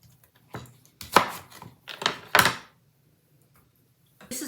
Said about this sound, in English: We are going to take 1 sliced onion. We're just going to kind of do it in 4s. Just like this, just throw it right in.